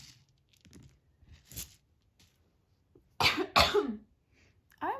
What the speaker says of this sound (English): I'm so sorry about my cough.